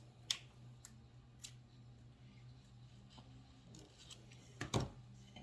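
Scissors snip twine for a small craft sign, a few quiet crisp cuts spaced apart and a louder double snip near the end, over a low steady room hum with no talking.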